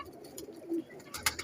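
A male breeder pigeon gives a soft, low coo, faint and brief, in a quiet room.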